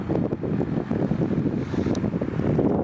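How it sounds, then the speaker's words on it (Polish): Steady wind rushes and buffets the microphone, a continuous low roar with gusty fluctuations and no voices. "akurat teraz wiatr się trochę zmógł tu w tej przecince"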